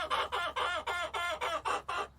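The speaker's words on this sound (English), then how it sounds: "I love the noise of chickens." Chickens cluck in a rapid, regular series of about eight short, throaty calls, evenly spaced and fairly close, with nothing else heard around them.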